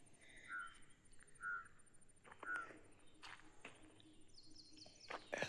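Birds chirp outdoors on a farm, a few scattered short calls with some distant twittering over quiet ambient background, plus faint rustles or footsteps.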